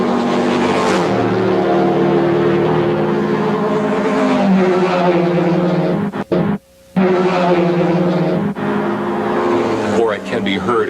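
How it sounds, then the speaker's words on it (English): A 1982 racing car engine with open exhaust gives a loud, harmonic roar that holds steady for several seconds, briefly cuts out, then resumes with revving shifts while a voice talks over it. "The open exhaust of a racing engine can be heard as loud noise."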